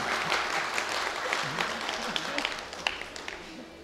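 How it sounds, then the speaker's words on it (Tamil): Audience at a Tamil debate (pattimandram) event at the Chennai Book Fair applauding for a writer, a dense steady wash of many hands clapping that continues throughout and tapers slightly toward the end. "எழுத்தாளர் கைதட்ட மாட்டீங்களா?"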